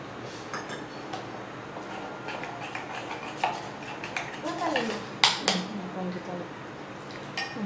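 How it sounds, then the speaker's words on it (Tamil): A spoon clinks and scrapes against a bowl as bajji batter of gram flour, salt, soda and food colour is stirred with water, producing irregular close taps in a quiet kitchen. "இது நம்ம தண்ணி போட்டு கலக்கிக்கலாம்."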